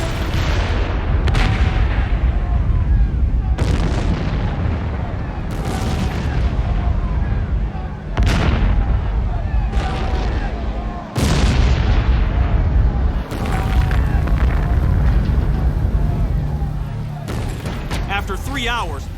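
Chemical-filled drums blow apart one after another inside a burning 60,000-square-foot industrial plant, a series of loud, deep booms at irregular intervals over a continuous roar of fire, with voices talking underneath.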